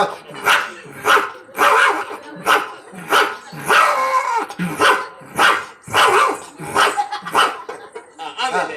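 A mimicry artist on stage imitates a dog barking, giving about a dozen loud, close barks with short gaps between them, some rough and growling.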